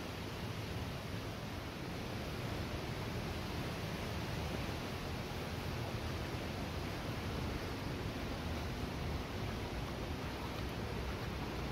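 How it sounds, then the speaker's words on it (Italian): Inner waterfall at the Misol-Ha cascade in Chiapas, Mexico, a constant soft hiss of falling water, even and fairly distant, with no voices. "si sente di più il rumore della cascatina interna che di quella esterna"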